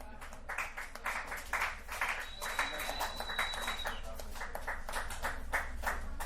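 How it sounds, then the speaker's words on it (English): Audience at a dive bar stand-up comedy show breaking into applause, a dense wash of clapping from a crowd lasting several seconds, with a voice speaking over it. "Another round of applause for Miss Skyy Lyfe"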